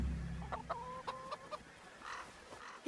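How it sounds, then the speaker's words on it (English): Chickens cluck in a medieval village farmyard in Kingdom Come: Deliverance, with several short clucks and calls in quick succession after a low rumble fades, close and fairly quiet. "Okay, feed the chickens."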